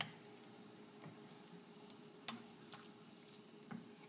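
A spoon stirring Thai red curry with thin soy sauce in a pan, producing a soft continuous sizzle and bubbling with a few faint scrapes and clicks, quiet and close, with no voices.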